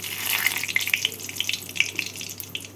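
One dried red chilli and two bay leaves tempering in hot oil left over from frying taro, a close, continuous sizzling hiss with small crackling pops.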